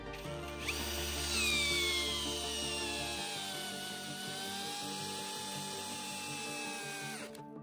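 A Parkside PSBSAP 20-Li C3 cordless hammer drill runs steadily at its lowest speed setting, a close, continuous motor whine with no talking over it until it winds down near the end.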